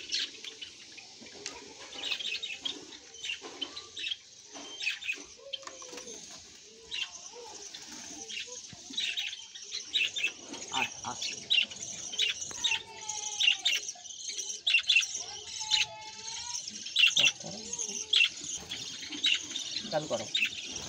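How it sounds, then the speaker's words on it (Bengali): Budgerigars in an aviary colony, including yellow, lutino and white birds, chirp and twitter in quick, scattered bursts, faint but constant, with occasional soft wing flutters and low background murmuring. "এটা বদ্রি পাখির ঘর।"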